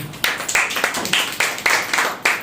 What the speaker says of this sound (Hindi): परमेश्वर के लिए एक बार जोरदार ताली।